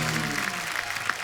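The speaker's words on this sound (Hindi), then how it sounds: "जोरदार तालियां।" Studio audience of a comedy talk show giving a hearty round of applause, a continuous dense wash of clapping with a voice briefly audible underneath at the start.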